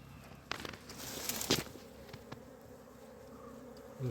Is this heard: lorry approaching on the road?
no